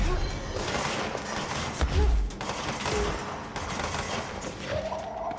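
Dense, continuous gunfire from the player's weapon in the game Control, loud and close, with a heavy low thump near the middle and a rapid, crackling texture throughout.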